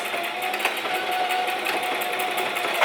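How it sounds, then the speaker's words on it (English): A sewing machine stitching back and forth across a fabric face mask, making a steady, continuous mechanical whir with small bursts as the stitching changes direction, close and fairly loud. "I'm just going to sew back and forth across this"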